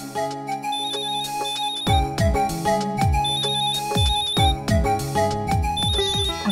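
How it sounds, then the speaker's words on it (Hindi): A telephone rings with a repeating electronic melodic ringtone, loud and close, its pulsing tones cycling steadily with no talking over it. "शायद अहम जी का ही फोन होगा, लगता है उन्होंने पर्ची पढ़ ली है।"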